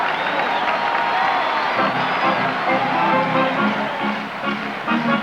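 A baseball stadium crowd at a 1984 Royals–Tigers playoff game in Kansas City cheers and shouts in a broad, steady roar, with whoops and rhythmic clapping emerging toward the end.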